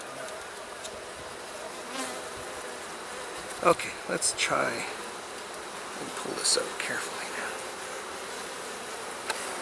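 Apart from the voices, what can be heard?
honeybees buzzing around a hive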